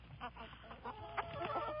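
Small high chirps from baby chicks come in quick, irregular bursts over a soft background hum, fairly close but quiet.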